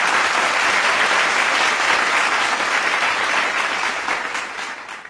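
Audience applause at a Deepavali special pattimandram debate show in Tamil, a dense, steady clapping from a large crowd filling the hall, loud throughout and tapering slightly toward the end.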